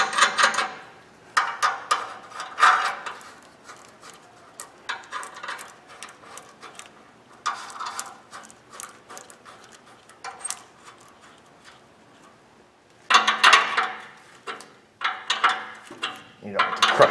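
Ratcheting tool tightening exhaust pipe clamps on a Ford Ranger with old rusty pipe, heard as quick bursts of clicking separated by pauses, fairly close and alone with no talk.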